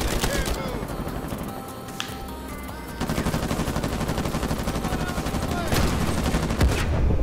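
Rapid automatic gunfire rattles almost nonstop in an Uncharted 4: A Thief's End multiplayer match on PS4, loud and close, with sharper single shots and a lull near the start, while a player talks over it.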